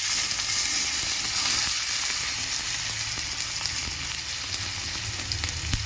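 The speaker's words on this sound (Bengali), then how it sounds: "পেঁয়াজ রসুন একটু ভালো করে ভাজা করে নেব" Chopped garlic and onion fry in a pan for egg dal, giving a loud, dense, continuous sizzle up close, steady throughout with faint stirring clicks and no speech.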